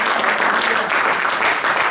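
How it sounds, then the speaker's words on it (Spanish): Steady, dense applause from a church congregation during a worship service, continuous and loud across the whole moment with no break. "Denle un aplauso al Señor en esta hora, en el nombre de Cristo Jesús."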